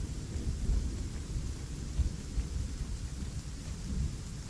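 Steady rain pours in an Arma 3 game scene, a dense hiss and patter with low rolling thunder rumbling underneath throughout.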